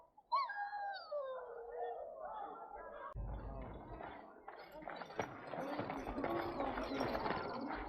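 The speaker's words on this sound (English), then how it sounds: "Puppy!" A dog in the video game Dragon Age: Origins gives a rising, wavering whine and howl, then game ambience takes over with hoof-like clopping and scattered clatter.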